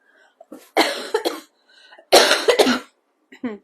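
Several harsh coughs in two clustered bursts, close and fairly loud, with short quiet gaps and a final small cough at the end.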